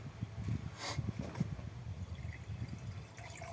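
Liquid is poured quietly from a container, a soft gurgling trickle with faint splashes close by.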